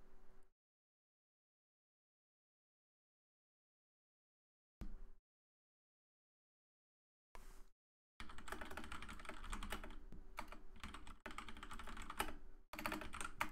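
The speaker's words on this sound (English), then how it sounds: "Why am I typing?" Computer keyboard typing comes in short bursts separated by long silences, then turns into a dense, steady run of fast keystrokes close to the microphone, quiet overall with no speech.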